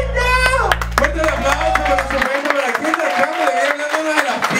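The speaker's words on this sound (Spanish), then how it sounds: "Fuerte el aplauso" Audience clapping at a café concert show, a dense run of hand claps in the first seconds that fades as a voice talks on over the room.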